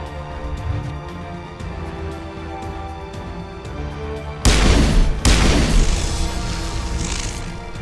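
Gunshots in Mass Effect Legendary Edition on Virmire, a loud sharp blast jolting in mid-clip and a second hard crack close behind, ringing over a steady game score.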